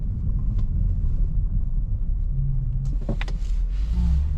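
A Lexus SC430 drives up a steep, snowy hill with a low, steady engine rumble and rough road and wind noise, plus a few sharp knocks and clicks near the end.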